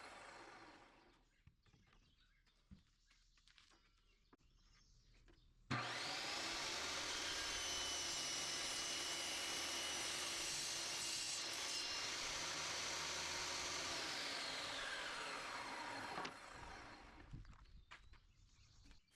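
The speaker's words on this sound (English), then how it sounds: "This speeded up clip shows me cutting the plywood outside on the table saw." A table saw cuts 3/4 inch plywood outdoors, sped up: a sudden loud, steady whine that starts after quiet handling noises, holds for about ten seconds, then drops away into scattered clatter.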